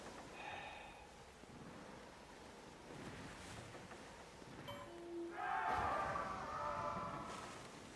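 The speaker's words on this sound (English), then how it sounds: "Still haven't made it out of these waves yet" Ocean waves surge and wash in the pirate naval game Skull and Bones, a steady rushing swell that builds louder near the end, mixed with brief tonal game cues.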